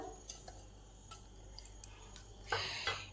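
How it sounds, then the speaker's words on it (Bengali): A spoon mixes dry dosa ingredients in a container, making faint scattered clinks and scrapes, then a louder, brief rustling scrape near the end against a low steady hum. "এবার এই শুকনো সব জিনিসগুলোকে চামচে করে ভালো করে একটু মিশিয়ে দিলাম"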